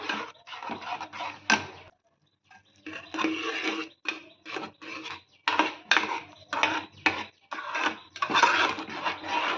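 Urad dal being stirred and mixed in a metal cooking pot in a home kitchen, with repeated scraping and wet sloshing strokes in uneven bursts, close and moderately loud, with short pauses between them.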